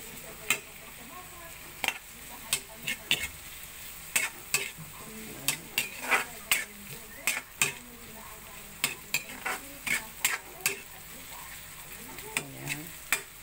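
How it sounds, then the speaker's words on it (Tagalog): A frozen hotdog sautés in a pan for spaghetti sauce with a soft, steady sizzle. A utensil stirs it in a run of sharp, irregular clacks and scrapes against the pan. "Gisa natin yung hotdog."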